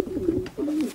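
A racing pigeon in a breeding loft gives two soft, close cooing calls, each a low rolling hum, separated by a brief pause.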